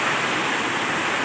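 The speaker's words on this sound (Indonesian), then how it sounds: "kita mau pulang namun di sini masih hujan" Heavy rain pours down in a tropical forest beside a river, a dense, steady hiss of water that fills the whole moment with no voices.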